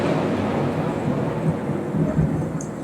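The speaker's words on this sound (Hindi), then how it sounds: "बहुत ज़्यादा ही बारिश हो रहा है" Heavy rain pours down in a dense, continuous roar with low rumbling beneath, heard alone at fairly close range.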